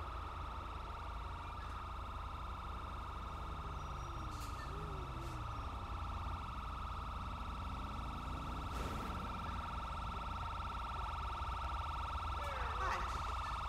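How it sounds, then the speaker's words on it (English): A police car siren in GTA V's LSPDFR police mode wails continuously at moderate volume, its pitch sweeping up and down against a steady engine hum, with occasional voices. "Turn your siren off."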